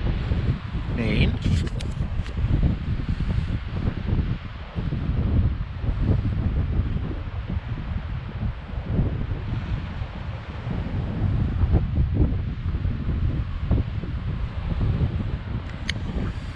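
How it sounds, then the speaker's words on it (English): Strong spring wind buffeting the Bay of Fundy coast in Maine, a loud continuous roar with gusts battering the microphone, while a person talks over it. "20 mile an hour wind."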